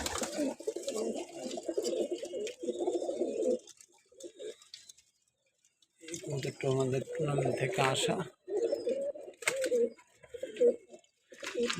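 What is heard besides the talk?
pigeons cooing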